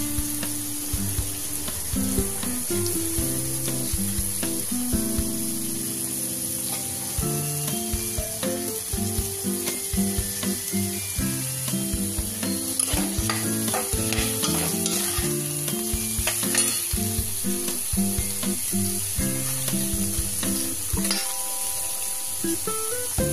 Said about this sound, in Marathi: थोडंसं असं हलवून घ्यायचंय। थोडं फ्राय होऊ द्यायचं आलू गाजर।